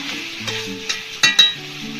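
Biryani masala frying and being stirred in a pan, with a low sizzle and a couple of sharp scraping knocks of the spoon, close and fairly loud.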